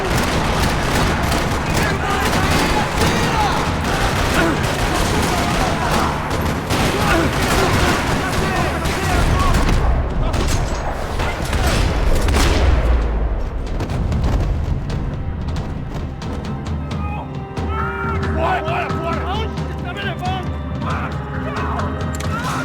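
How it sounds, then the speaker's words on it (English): Rapid bursts of video game gunfire rattle almost nonstop, mixed with booms and crashes, while a voice speaks over the action. "Another parking lot rattling with gunfire."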